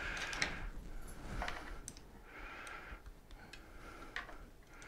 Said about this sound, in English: Started with this at a funny angle and tighten it up with the Allen wrench.